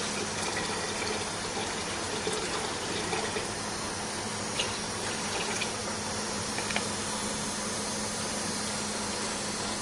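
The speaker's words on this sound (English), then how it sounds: "we will add water." Water pours steadily into a diesel fuel purifier at a Saudi factory, a continuous gushing fill with a low mechanical hum beneath and a few faint clicks, no talking.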